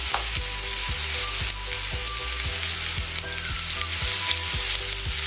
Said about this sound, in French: Aujourd'hui, je vais cuire mon légume et je vais tout rajouter dedans au fur et à mesure.